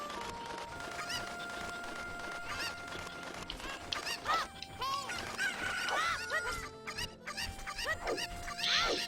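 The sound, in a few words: chickens (cuccos) clucking in a Zelda video game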